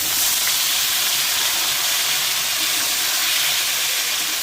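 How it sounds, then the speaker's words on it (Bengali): Papaya and potato pieces dropped into hot oil with browned onions set off a loud, continuous broadband sizzle that holds steady and close throughout, with no voices. "এবার পেঁপে আলুটা দিয়ে দিলাম"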